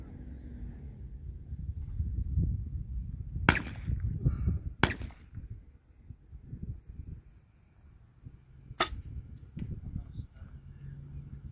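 Sharp snapping cracks of arrows shot from a bow and striking a target, three distinct loud impacts spaced a few seconds apart over low outdoor rumble and faint movement.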